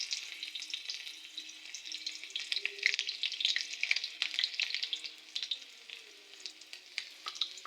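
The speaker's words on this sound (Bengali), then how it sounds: "এগুলোকে এখন ভালোভাবে নেড়ে নেব" Onion, green chilli, garlic and dried chilli fry in oil for a lentil and red amaranth dish, a lively crackling sizzle with irregular spatters and stirring scrapes, close and moderately loud.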